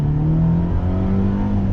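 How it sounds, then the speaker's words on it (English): A 2020 Mercedes-Benz SLC 300 folding-hardtop convertible with a turbocharged inline-four accelerates hard, its engine note rising steadily in pitch, loud and close, with no talking. "Let's see how she accelerates on the throttle."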